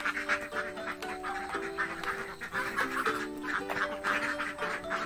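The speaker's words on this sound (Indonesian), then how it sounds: "Untuk bebek sebanyak 40 ekor dengan 2 jantan dan 38 betina" Laying ducks in a pen of about forty birds, two drakes and thirty-eight hens, quack in steady overlapping bursts over a constant flock chatter, with a tonal backdrop running underneath.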